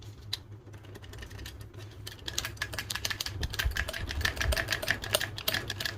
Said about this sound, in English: Let's have a look at the retention. So there's a bit of a click there.